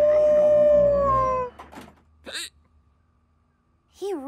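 A sick hound in a cartoon lets out a long, wavering howl that slides downward and then stops. Brief yelping cries follow, set apart by near-silence. The animal is loud and close.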